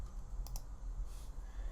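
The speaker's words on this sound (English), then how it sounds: "So I'll hit 8 on the keyboard, hit return" A computer keyboard in a quiet room gives a few soft key presses, two quick clicks close together and then a fainter tap, over a low steady hum.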